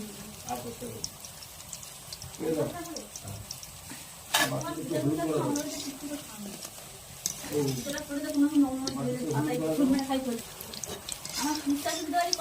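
Banana slices fry in a pan at home for a small memorial ceremony, giving a steady low sizzle with occasional stirring scrapes under someone talking throughout.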